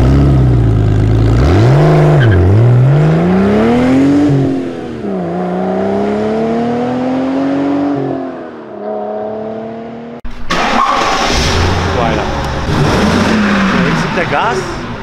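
A Mercedes CL 500 V8 engine revved with the throttle, rising and falling swells of a deep engine note, close and loud, with a sudden harsher rev surge near the end; someone talks now and then.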